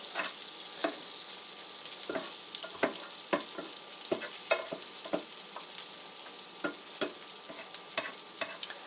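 Butter sizzles on a hot griddle while a Korean street food breakfast cooks, a steady frying hiss punctuated by frequent sharp scraping and tapping clicks from a utensil, with no one speaking.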